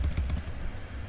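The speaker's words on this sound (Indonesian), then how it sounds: "kita langsung saja melanjutkan dengan mengetik" Keystrokes on a computer keyboard while entering MySQL commands for a library database, a quick burst of clicks at the start, then quieter, with no talking.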